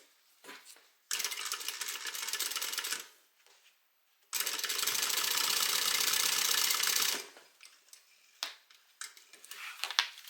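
A sewing machine stitches a seam on an evening bag in two bursts of fast, loud, close whirring, a short one followed by a longer steady run, with quiet handling clicks and rustles in the pauses.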